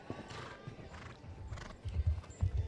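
Horse hooves clip-clopping on an arena surface during a show-jumping championship, steady rhythmic thuds growing louder and closer toward the end, with a brief whinny and faint background sound.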